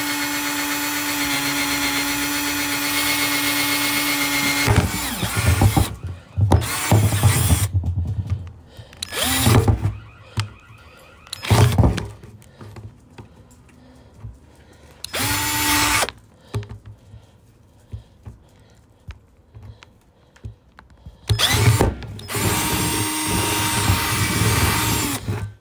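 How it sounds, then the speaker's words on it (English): A power drill whines loudly in several long bursts, drilling a drainage hole in a plant pot, stopping and starting with quieter gaps between, close up and with no talking. "You need to drill this hole"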